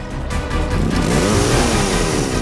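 A motorcycle engine revs up loud and close, its drone rising and swelling steadily over a couple of seconds, with no talk.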